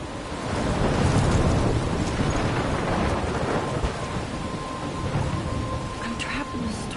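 Thunderstorm in the video game Life is Strange: heavy rain pours steadily throughout while deep thunder rumbles loud and close, with no voices over it.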